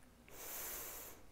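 A slow, deliberate breath drawn in and let out during a calm morning yoga session, a soft airy hiss that swells and fades, faint and close with no talking.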